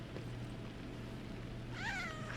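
A cat in the game Lies of P gives one short, wavering meow near the end, following a low steady hum and quiet ambient background.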